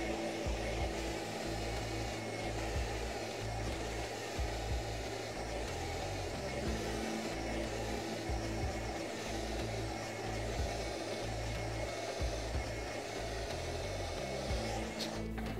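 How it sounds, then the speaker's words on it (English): A hair dryer blows steadily for a 1990s Rachel-style blow-dry, its motor hum running unbroken and fairly loud throughout as a round brush works the front sections of hair forward. "I'm gonna blow dry this hair coming forward."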